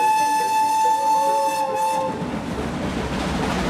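A train pulling a recreated Queen Victoria coach along a British railway sounds a steady whistle tone that cuts off partway through, leaving a rumbling, echoing roar as it runs into a tunnel.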